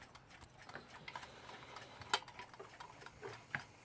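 A reassembled Weltime alarm clock ticks softly and steadily at close range, faint regular ticks with a couple of sharper metallic clicks standing out.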